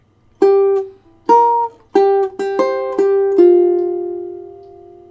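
Ukulele plucking the first measure of the Beverly Hills Cop theme, a handful of bright, distinct notes at a moderate tempo, the last one ringing out and fading, played alone and close.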